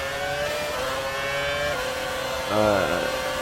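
A racing car engine in a racing video game revs in rising and falling sweeps, then surges louder near the end, with the pitch bending as it goes.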